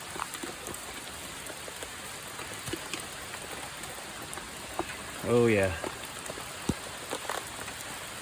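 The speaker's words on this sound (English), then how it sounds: "And gotta love the rain." Rain falls steadily outdoors in a soft hiss of drops, with someone briefly speaking partway through and a few scattered taps and knocks.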